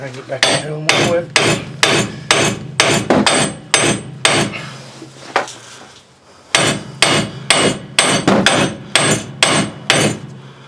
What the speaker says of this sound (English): It's just going to be a whole lot of hammering.